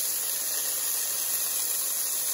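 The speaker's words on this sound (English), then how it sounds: "We're just searing it to seal in all the juices there" Chicken sears in a hot pan with turmeric, giving a steady, even sizzle and hiss that holds at one level from start to finish, close and fairly loud, with no talking over it.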